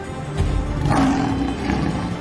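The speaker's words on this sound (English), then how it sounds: "Just like a lion." A lion gives a loud, close roar, a deep rumbling growl that swells and holds for about two seconds.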